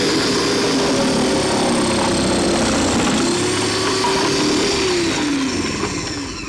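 A food processor grates carrots with a loud, steady motor whine and dense shredding noise that stays constant before easing slightly at the end.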